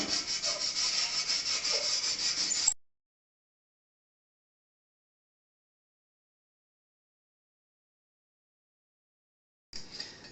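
A rusty push reel mower blade is sharpened with steady, close abrasive rubbing strokes for a few seconds, then silence, with a brief return of rubbing at the end.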